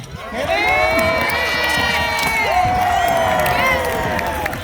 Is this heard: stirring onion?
no